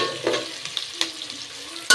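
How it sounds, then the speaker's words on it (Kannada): Sliced onions fry in hot oil in a pan for chicken biryani, a soft steady sizzle broken by a few scraping stirs, ending with a louder clatter of a spoon. "ಇವಾಗ ಈರುಳ್ಳಿ ಫ್ರೈ ಆಗ್ತಾಯಿದೆ. ಸ್ವಲ್ಪ ಲೈಟಾಗಿ ಗೋಲ್ಡ್ ಕಲರ್ ಆಗ್ತಾಯಿದೆ."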